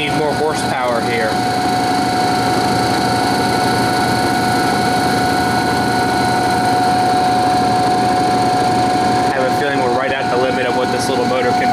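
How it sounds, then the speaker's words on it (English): A half-horsepower electric motor drives an old Imperial dynamo, giving a loud, steady mechanical whir with a constant whine throughout, and a voice talks over it. "It's a half horsepower motor."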